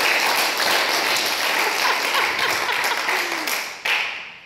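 A crowd applauds loudly and steadily, a dense wash of clapping that keeps going before it thins out near the end.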